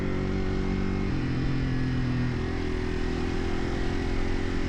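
Yamaha TW200 motorcycle riding a trail, its engine a steady close rumble with a shift in pitch partway through, running continuously without talk.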